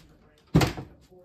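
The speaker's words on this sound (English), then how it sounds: "if you can just demonstrate opening and closing the door" Cabinet door swinging on a 36-inch piano hinge, a single soft thump of the door closing, close by and brief, with faint room noise around it.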